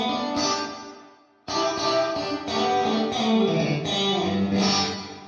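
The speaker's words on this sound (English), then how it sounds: "It's a really nice, you know, desirable plate reverb sound." Guitar notes and chords through a Neural DSP Quad Cortex Mini's Plate 70 plate reverb ring out with a lush, lingering shimmering wash, a brief drop in the middle before strumming resumes; no talking.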